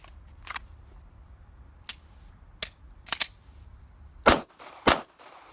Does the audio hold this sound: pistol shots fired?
yes